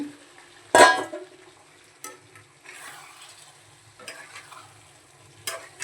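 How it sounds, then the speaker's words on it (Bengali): Boiled potatoes tipped into a pan of spices and fried until dry: one loud clatter and sizzle as they drop in, then quieter scraping stirs and short clinks of a spoon against the pan. "মশলাটা করবে এবার আলুগুলো ঢেলে দিলাম একদম শুকনো শুকনো হবে"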